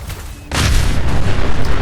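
A MIRV launcher shot in Fallout 4 detonates with a sudden loud boom, followed by a sustained roaring rumble of explosions.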